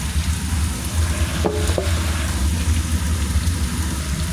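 Pork frying in its own rendered fat, a steady loud close sizzle with a brief stir or clink partway through and no talking.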